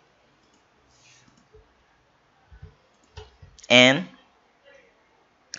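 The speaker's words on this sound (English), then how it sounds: "far away from the chain and do the right click" Computer mouse clicks while working in Mastercam CAD software, several quiet close clicks spread out, one louder burst midway, with faint speech.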